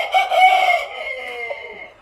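A single loud, close rooster crow rings out and trails off slowly, heard alone on a poultry farm that keeps roosters for sale.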